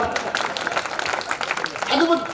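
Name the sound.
audience clapping at a poetry gathering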